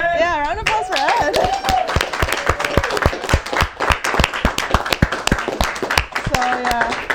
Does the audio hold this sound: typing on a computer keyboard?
no